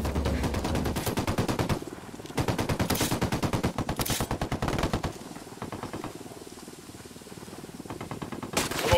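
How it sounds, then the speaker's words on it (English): Sustained automatic gunfire from a firefight in the Ghost Recon Wildlands video game, rapid bursts rattling almost continuously with brief pauses, loud and close throughout. "I'm opening fire on these shitheads."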